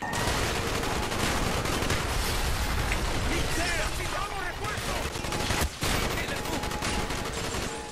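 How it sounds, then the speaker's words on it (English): Constant heavy gunfire in Call of Duty: Black Ops, overlapping automatic bursts and blasts forming a dense barrage, with a voice talking over the shooting. "Why do you keep shooting there?"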